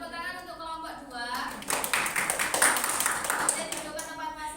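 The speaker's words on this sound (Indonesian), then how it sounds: "Tepuk tangan untuk kelompok 2." Classroom clapping for a student group in a teaching session, starting after a moment of talk and swelling into a ragged burst of many hands clapping close by, with voices mixed in.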